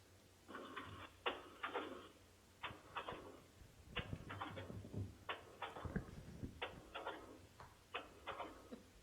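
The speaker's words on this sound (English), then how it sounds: "Sounds like a printer." Printer running during a virtual town commission meeting, a faint, repeated mechanical whirring in evenly spaced bursts about once a second, heard alone over a quiet line.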